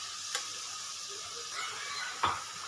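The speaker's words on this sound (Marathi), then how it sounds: "असं आपल्याला व्यवस्थित मिक्स करून परतून घ्यायचं।" Spinach and fenugreek are stirred and sautéed in a pan, giving a soft, quiet sizzle broken by a couple of brief utensil scrapes against the pan.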